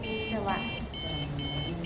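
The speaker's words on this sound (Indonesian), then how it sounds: "buzzer akan berbunyi sebagai indikator akses berhasil" An RFID door access system's buzzer sounds in short repeated high-pitched beeps over a low background hum, close and fairly clear.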